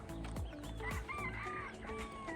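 A rooster crows loudly and close by outdoors near a beach in Bermuda, its call rising and falling over about two seconds against a steady, rumbling wind-like background.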